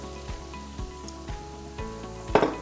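Semolina and pine nuts roasting in a pan for irmik helvası, a soft steady sizzle broken by several scraping stir strokes and a louder clatter near the end, with no talk.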